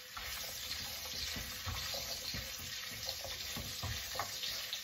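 Carrot stir-frying in a pan for mixed stir-fried vegetables, a soft continuous sizzle with light scraping and tossing knocks throughout, quiet and close, no voices.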